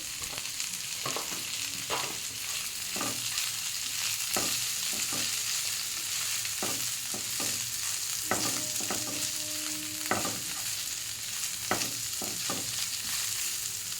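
Chopped broccoli stir-fried in a pan for healthy chow mein, a steady close sizzle with repeated scraping stirs of the spatula, no talking.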